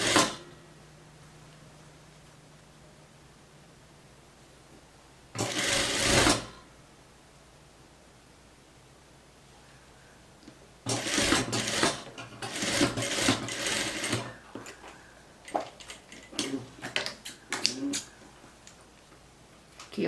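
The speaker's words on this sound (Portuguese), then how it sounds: "aí você passa ferro e você vai esticar e costurar" A sewing machine stitching trousers runs in short separate bursts, with a brief loud run, then a longer stretch of stop-start stitching and quieter gaps between.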